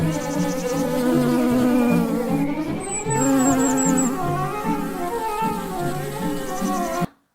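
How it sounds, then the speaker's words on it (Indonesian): A bee buzzes steadily and loudly throughout, close by, over a layered musical backing, with a few high chirps partway through and a sudden cut at the end. "Ternyata ada lebah adik-adik."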